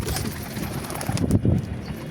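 Pigeons settle onto a rooftop loft in Imbaba, with cooing and brief wing flutters in the foreground over steady outdoor background noise.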